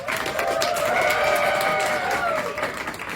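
A theatre audience at a stage performance of Clue applauds, a loud, sustained wash of clapping mixed with some crowd cheering that swells in the middle and eases toward the end.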